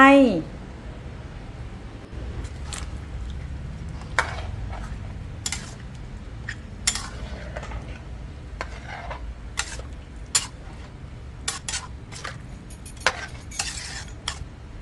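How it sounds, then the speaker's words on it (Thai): Bamboo shoots going into a pot of Thai chicken curry, followed by steady stirring with sharp clinks of a utensil against the pot over a low bubbling simmer, with someone talking throughout. "ต่อไปก็ใส่หน่อไม้ลงไป"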